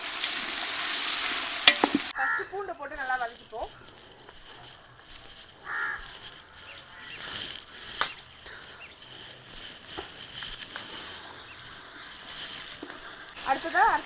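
Onions for a large batch of mutton biryani fry in hot oil with a faint, intermittent sizzle after an opening burst of loud hiss, with occasional scraping stirs and brief background voices.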